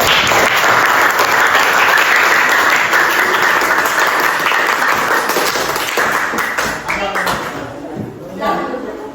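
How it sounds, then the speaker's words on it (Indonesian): Students in a coding and artificial intelligence classroom clap for presenting classmates, a loud, dense burst of applause that holds steady, then thins and fades near the end, with a few voices underneath. "Oke, tepuk tangan untuk temannya."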